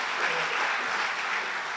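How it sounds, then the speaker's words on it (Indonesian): A church congregation claps steadily during a worship service, a dense, even patter of many hands throughout with no voices on top. "Beri tepuk tangan lagi buat Tuhan kita."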